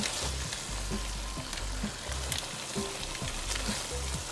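Chicken browning in a pan for arroz con pollo, a quiet steady sizzle with faint crackles and soft thumps of stirring, no voices.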